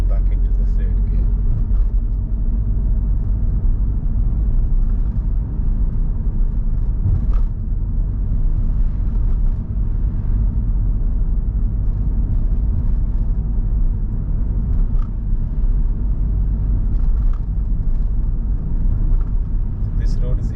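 Steady low engine and road rumble from the inside of a car driving at 30 mph in third gear, continuous and even throughout, with faint ticks and clicks over the top.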